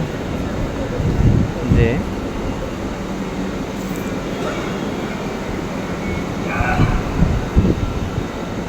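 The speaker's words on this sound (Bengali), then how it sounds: "একটা মেট্রো দাঁড়িয়ে আছে এখানে" A metro train standing at Motijheel station makes a continuous low rumble and hum, with a few brief higher squeaks and people talking nearby.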